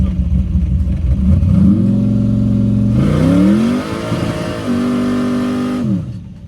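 Car engine fitted with an ATM carburetor revving loudly up and down, pitch climbing and holding through repeated throttle blips, close up with a slight rough break-up, no talking.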